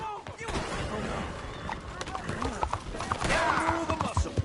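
Hooves clip-clop in a rapid gallop during a Red Dead Redemption 2 story-mode ride, mixed with game gunfire and horse noises, with voices talking over it.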